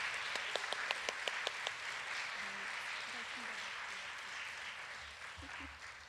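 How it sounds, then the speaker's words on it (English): An audience at a Christian school's morning gathering claps: a few sharp individual claps at the start, then a steady wash of applause at moderate level, fading toward the end. "A round of applause for their sharing the story."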